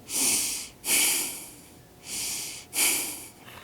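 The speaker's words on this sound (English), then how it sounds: "Same thing, we're breathing the whole time." A person breathes heavily through a rotational exercise, four long, loud, airy breaths in an even in-and-out rhythm, close by with no talking.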